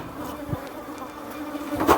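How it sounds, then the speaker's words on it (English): Honeybees from a hive colony, stirred up and agitated while old frames are cycled out, buzz in a dense continuous drone close by. Individual bees flare louder now and then as they pass near. "the bees are so riled up now"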